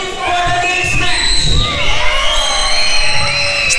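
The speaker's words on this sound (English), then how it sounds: "there's some screaming kids in the front row" Kids in the front row of a crowd at a live wrestling show shout and scream in loud, high bursts, with wider crowd noise and cheering around them throughout.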